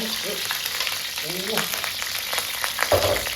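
Squid stir-frying with salted egg in a pan crackles and sizzles constantly, with the scrape and clatter of stirring and a brief voice in the background.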